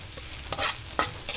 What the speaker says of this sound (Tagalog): Lagay natin ang bawang. Antayin lang po natin mag light brown.